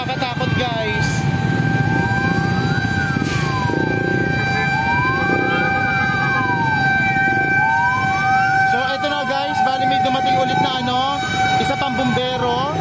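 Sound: fire truck siren arriving at a fire

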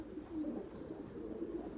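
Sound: tumbler pigeons cooing and landing

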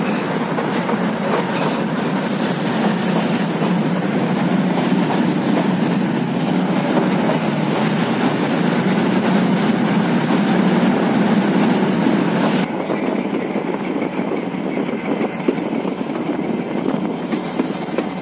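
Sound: Kangra Valley toy train running on rails

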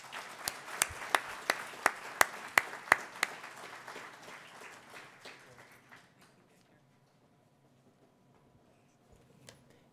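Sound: audience applause welcoming a speaker at a conference

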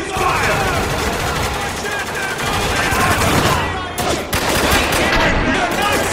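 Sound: gunfire in the video game Spec Ops: The Line

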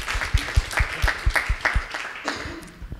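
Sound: round of applause

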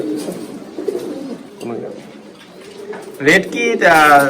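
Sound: pigeons cooing at a pigeon farm

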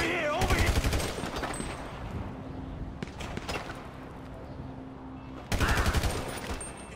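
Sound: gunfire in video game Grand Theft Auto V

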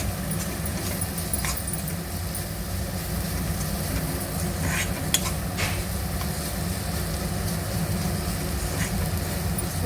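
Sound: frying onion in a pan

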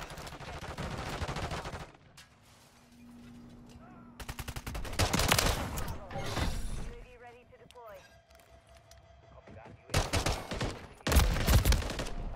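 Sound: gunfire in the video game Modern Warfare 3

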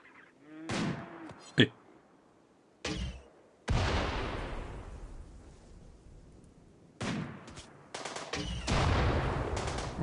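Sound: gunfire in the video game Rimworld

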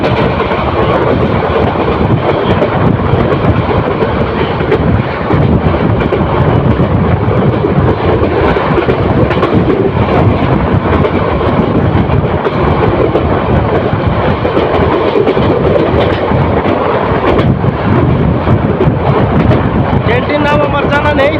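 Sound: another train approaching from the front

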